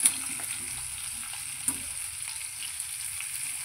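Small onions sauté in a pan with a steady, even frying hiss and crackle, plus a faint utensil tap or two, close and consistent throughout with no speech.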